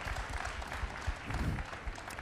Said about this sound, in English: Yeah, definitely worth some claps.